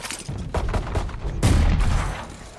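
A rapid string of gunshots rattles through a video game firefight, several quick cracks followed by one louder, heavier boom, with steady background noise and no talk.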